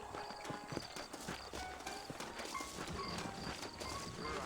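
Horse hooves clop at a walking pace in the video game Red Dead Redemption, evenly spaced and fairly close, with soft ambient background and no speech.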